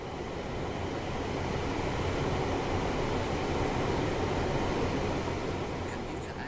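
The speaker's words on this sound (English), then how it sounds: "This train is a Class 350/1 electric multiple unit, manufactured between 2004 and 2014, and is part of the Desiro family." A Class 350/1 Desiro electric multiple unit running on the four-track West Coast Main Line in Train Sim World 5, a steady rumbling roll of wheels and motors, constant and unbroken, with no voices.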